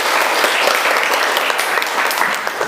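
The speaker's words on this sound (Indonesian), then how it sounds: "kita berikan aplaus" A group bursts into dense, loud, continuous clapping that stays steady throughout, with a few voices faintly mixed in.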